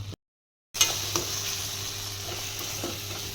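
Tomatoes and chili sizzle in a pan as they are stirred. After a short silent gap comes a steady, close frying hiss with faint scrapes from the stirring.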